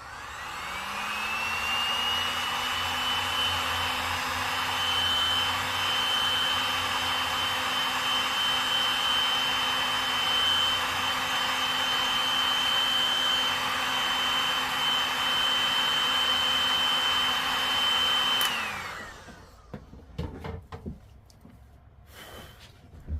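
Heat gun or hair dryer drying paint on a reborn doll, a loud steady whine that spins up, runs evenly for about eighteen seconds, then winds down, followed by faint handling noises.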